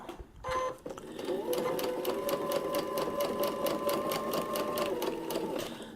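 A sewing machine stitches a paper piecing quilt block, a steady rapid run of needle strokes lasting several seconds after a brief pause, close and fairly loud.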